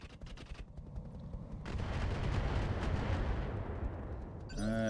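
Weapon fire from a mech in the BattleTech game RogueTech: a short burst of sharp shots, then a sustained roaring barrage that swells and holds, ending in a quick electronic chirping.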